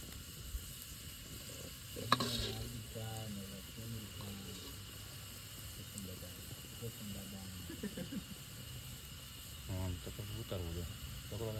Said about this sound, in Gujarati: આપણે કાજુ બદામ નાખી દીધા છે તળવા માટે